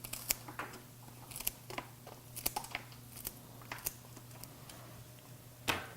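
Scissors or shears snip repeatedly while cutting a stem to length for a vase arrangement, a series of short, crisp clicks and cuts, close and fairly quiet over a low steady hum.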